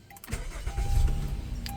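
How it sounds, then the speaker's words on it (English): A car engine cranks and catches at close range, a brief starter whirr followed by a steady low rumble as it settles, with no talking. "let me turn this car on"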